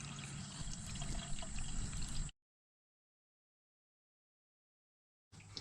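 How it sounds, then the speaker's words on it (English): Antifreeze draining from a travel trailer's winterized water system pours in a steady, close trickling stream for about two seconds, cuts to silence, then briefly resumes near the end. "So I'm going to let the antifreeze drain out of the system"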